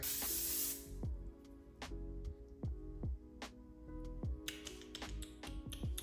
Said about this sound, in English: Let me go with one more spray.